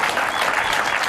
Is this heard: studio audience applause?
yes